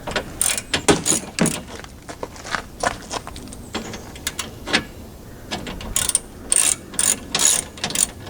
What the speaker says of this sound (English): And we take out top bolts.